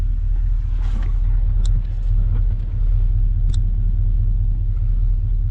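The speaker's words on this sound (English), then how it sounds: "So I'm going to put the truck in gear and it'll move." A Chevy or GMC pickup truck engine idles with a steady low rumble, a few faint clicks and knocks over it as it is shifted into gear and moves.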